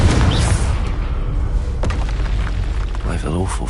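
A Confringo fire spell bursts in Hogwarts Legacy with a heavy boom at the start, followed by rumbling and crackling debris; a voice speaks briefly near the end.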